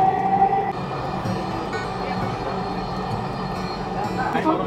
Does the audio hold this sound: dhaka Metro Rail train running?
yes